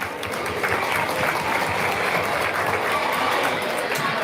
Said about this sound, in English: They deserve a great big round of applause.